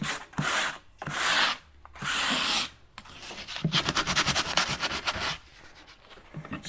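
A brush drags chalk paint across a wooden cabinet in close, scratchy strokes: several separate sweeps, then a quicker run of rhythmic back-and-forth rubbing.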